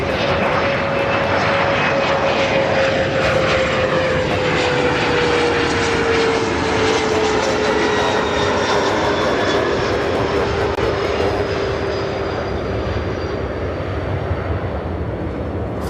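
An airliner arriving at Chicago O'Hare from Akron roars past in a loud, continuous engine drone, its whining tone gliding slowly downward as it passes close by.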